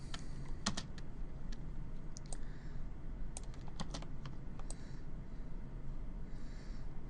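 Computer keyboard keys are pressed in irregular bursts of sharp, close clicks and taps while someone works on a digital self-portrait, with steady low background noise and no speech.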